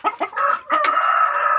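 Chickens on a poultry breeding farm give a few short clucks, then a loud, close, drawn-out crowing call, with no voices.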